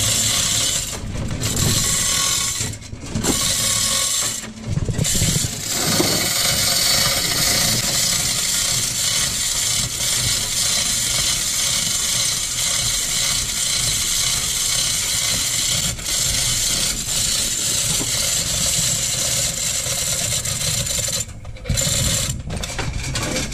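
Continuous ratcheting of a tie-down strap being tightened while securing a heavy lathe for moving, a steady mechanical grinding with a few brief pauses, close and fairly loud throughout.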